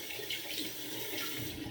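Water runs steadily from a tap to wet a shaving brush, a close, even hiss and splash with no break and no voices.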